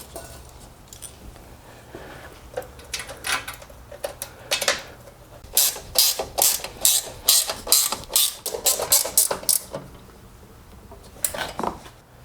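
Two bolts being fitted on the cover of a Murray snowblower, heard as a run of close, sharp metallic clicks and ratcheting taps in quick succession, with light handling noise before and after.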